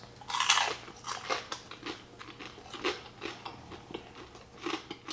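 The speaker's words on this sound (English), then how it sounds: "the skin is nice and crispy, as I hope you heard from the cutting through it" A knife cuts through crispy salt-crusted pork belly skin, giving a quick series of sharp crackly crunches at close range, irregular in rhythm and fairly quiet overall.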